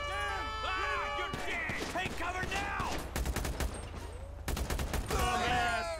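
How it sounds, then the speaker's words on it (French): Gunfire during a police shootout in the GTA 5 video game with the LSPDFR police mod: rapid bursts of shots in two clusters, mixed with game sounds and voices talking throughout. "Ok, on se fait tirer dessus."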